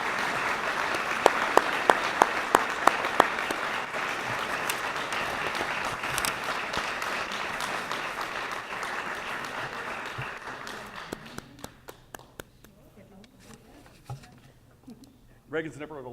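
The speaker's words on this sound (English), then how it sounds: "Will you please give a round of applause" Audience applause rings out at a 2019 chamber of commerce dinner awards banquet, dense and steady for about ten seconds before fading into scattered claps, with talk beginning near the end.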